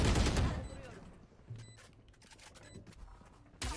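Gunfire strafing in a shooter video game, with a loud burst at the start followed by quieter scattered shots and clicks, then another sharp burst at the end.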